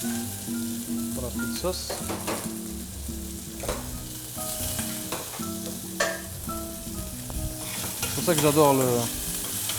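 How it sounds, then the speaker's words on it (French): Shallots sizzle and fry in a pan on an induction hob, a steady crackling hiss with stirring scrapes and utensil clinks, running under conversation in French. "On va mettre nos échalotes"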